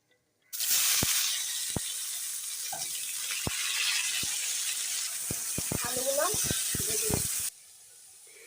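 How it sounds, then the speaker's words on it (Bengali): Potatoes fry in a pan with salt and turmeric, giving a steady, close sizzle for about seven seconds, dotted with sharp clicks and pops and a short voice near the end. "একটু লবণ একটু হলুদ দিয়ে দিয়েছি পরিমাণ মতো, দিয়ে এই যে এখন সেটা ভেজে নিচ্ছি"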